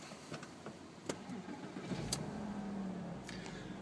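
A 2002 Porsche Boxster 986's flat-six engine cranks and starts after a few clicks, settling into a low, steady idle rumble heard from nearby but fairly quiet.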